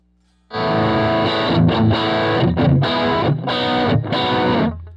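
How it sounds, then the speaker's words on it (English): An Ibanez electric guitar plays a run of loud, sparkly chords through split inner coils with the middle pickup, several strums in a steady rhythm before ringing out. "Now with my Ibanez guitar, position 4 will give me split inner coils with the bridge and combine that with the middle pickup."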